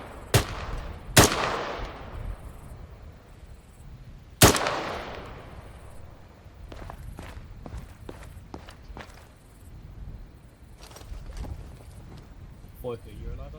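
An Arma 3 battle with several loud, sharp gunshots early on and scattered fainter shots later, mixed with footsteps and radio-style voices talking throughout.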